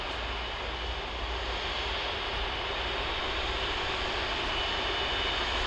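Airbus Beluga XL, an outsize cargo jet derived from the A330, fills the air at Hawarden Airport with a loud, steady engine roar that holds constant throughout, with no voices.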